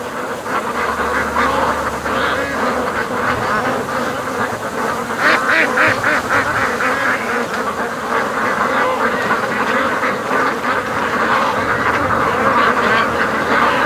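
A large flock of ducks at a lake quacks loudly and continuously, many overlapping calls forming a dense, agitated chorus close by.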